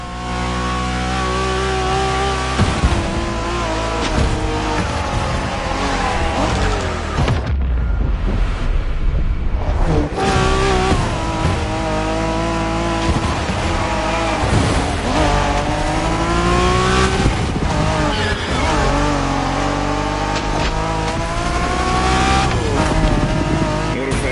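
Cars street racing in The Crew Motorfest, a driving video game: loud, sustained engine roars rising and falling through gear changes, with a brief drop around the middle before the revving surges back; no voices.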